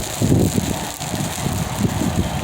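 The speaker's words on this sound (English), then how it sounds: "Here comes the wind again." Gusty wind in a winter storm roars steadily against a vehicle on the drive home, a broad, rumbling buffeting that swells and dips slightly without pause.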